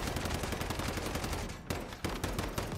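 Rapid automatic gunfire in the survival shooter Once Human, a dense, continuous burst of shots with a couple of brief pauses, loud and close, with no talking.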